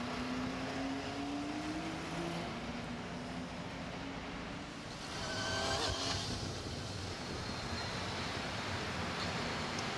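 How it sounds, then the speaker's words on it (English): IndyCar race car engines fire up at the Acura Grand Prix of Long Beach street race, a distant, faint, continuous roar with a slowly rising engine whine and a broad surge of noise midway. "Drivers, start your engine!"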